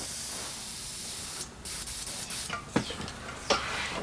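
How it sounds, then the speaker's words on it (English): An aerosol spray can is used in short hissing bursts while an ebike tire is installed, with brief handling clicks and rubs around the sprays, close and fairly quiet. "That I can spray only in this area where I need that."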